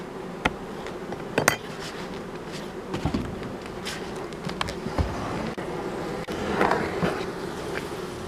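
Honeybees from a colony that has recently swarmed buzz steadily around their hive, a dense continuous hum close by, broken by a few sharp knocks and clicks from hive work.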